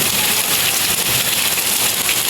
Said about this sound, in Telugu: ఫుల్ వర్షం పడిపోతుంది అరకు వ్యాలీలో